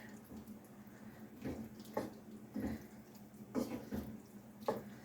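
Roast beef being stirred in casserole liquid, giving soft wet sloshing and scraping strokes in an irregular rhythm, close up and fairly quiet, with no talking.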